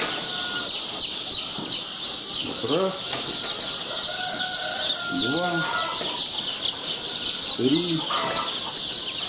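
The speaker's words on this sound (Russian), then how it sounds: "я отловлю 10 суточных цыплят кучинской юбилейной" Dense, high chorus of peeping from a crowd of day-old Kuchinskaya Jubilee chicks fills the background without pause, while someone speaks nearby in short phrases.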